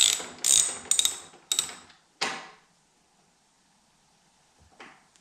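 Ratchet working bolts loose on the handlebars of a Can-Am Renegade ATV: about five quick bursts of clicking close by, then a few seconds of near silence with a faint rattle near the end.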